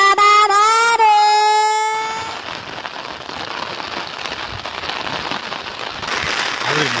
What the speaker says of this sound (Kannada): ಆದರೆ ಮಳೆ ಮಾತ್ರ ತುಂಬ ರೋಸ ಇದೆ.